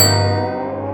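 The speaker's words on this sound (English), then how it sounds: "A bell started ringing." A single bell strike rings out loud and close, a sustained metallic tone rich in overtones that slowly decays without any voices over it.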